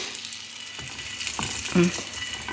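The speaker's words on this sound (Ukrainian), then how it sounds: "Жаримо кабачки. Розпочинаємо процес смаження." Zucchini frying in a pan gives a steady sizzle throughout, with a few small stirring or clinking touches near the middle and no talking.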